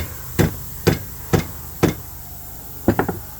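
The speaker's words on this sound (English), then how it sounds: "I think I am going to use a hammer to tap it in there" Sharp metallic hammer taps ring out one at a time at an even pace, four blows, then a short quick burst of three lighter taps, tapping a polyurethane bushing into the upper control arm of a 2001 Silverado 2WD.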